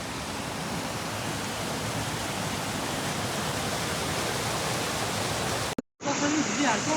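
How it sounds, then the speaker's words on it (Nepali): Mountain stream flowing beside a hiking trail toward Sundrawati waterfall, a dense steady rush of water, close and constant, cutting off abruptly near the end before a brief quieter tail. "खोला बगिरहेको छ यता त।"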